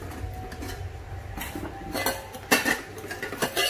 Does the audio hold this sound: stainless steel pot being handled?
yes